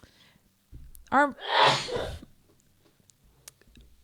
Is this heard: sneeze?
yes